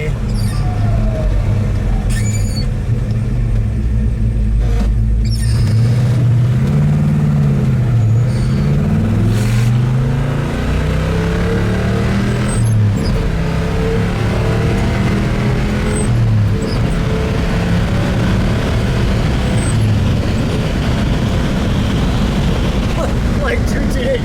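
A 1969 Oldsmobile F85 W-31 with a 350 engine and four-speed manual revs loudly on a country road, its engine note climbing and dropping repeatedly as it shifts through the gears, with a voice talking over it.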